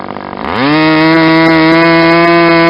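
OS 20FP model airplane engine, a 20-size glow engine, running on a bench: a buzzing, harmonic-rich drone that rises in pitch over the first half second, then holds steady, loud and close.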